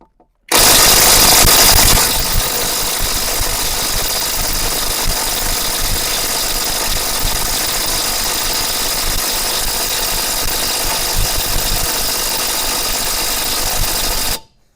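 A cordless ELTOS impact wrench works at bolts, giving a loud, steady motor whine and rattling hammer that starts sharply, holds continuously for about fourteen seconds at close range, then cuts off.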